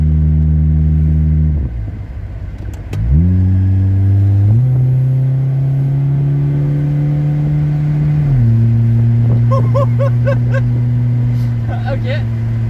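A Honda Prelude's engine drones close and loud, dipping briefly, then rising through steady gear-held revs with clear shifts as the car accelerates, a few faint clicks and chirps near the end.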